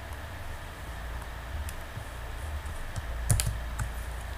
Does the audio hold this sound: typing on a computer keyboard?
yes